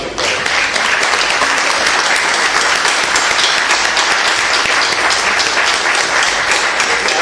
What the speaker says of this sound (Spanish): un aplauso para Rudy y para su lado